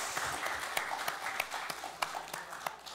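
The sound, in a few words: congregation applause in church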